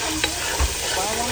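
Garlic frying in hot oil for paitan beef, a steady broadband sizzle with a brief stir clink and a low thump, continuous and close throughout the short stretch.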